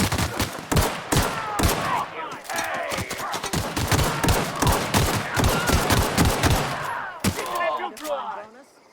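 Rapid gunfire in The Outer Worlds, with dense bursts of shots that cluster into sustained volleys, close and loud, and voices calling out between the shots.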